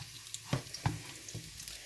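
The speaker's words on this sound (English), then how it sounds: "garlic and the ginger in the pan in the oil, flavor in the oil. I've got about 3 tablespoons of oil in the pan" Garlic and ginger frying in about three tablespoons of oil in a pan for stir-fried vegetables, with a soft sizzle broken by a few distinct stir and scrape clicks, quiet and close.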